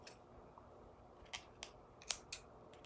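Cutting through the outer sleeve of clothesline rope with a few quick, faint snips, close up and quiet over soft background hiss.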